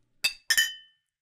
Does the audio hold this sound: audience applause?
no